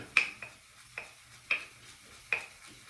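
A shaving brush strikes the sides of a small bowl while whipping lather, giving sharp ringing taps about every half second with soft swishing between them, close and clear.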